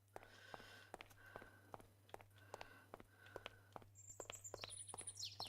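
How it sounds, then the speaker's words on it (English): Bird chirping in Minecraft, faint repeated tweets amid soft footsteps and a low hum, with a brighter run of higher chirps near the end. "I hear a little bit of nature. Oh,"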